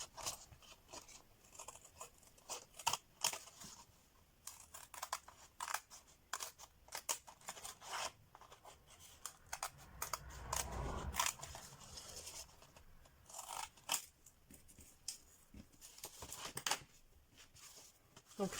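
Scissors snipping away excess paper from the pocket flap of a handmade scrapbook envelope, made from A4 sheets; a run of quick, close, crisp cuts and rustling paper with short pauses between snips.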